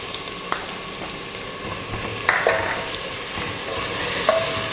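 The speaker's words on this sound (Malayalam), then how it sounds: "സവാള നന്നായിട്ട് വഴണ്ട് വരുന്ന വരെ നമുക്ക് ഇളക്കി കൊടുക്കാം." Sliced onions with crushed green chilli and ginger-garlic paste being stirred in a pressure cooker, a steady sizzle with occasional metallic clinks of the spoon against the pot, no talking.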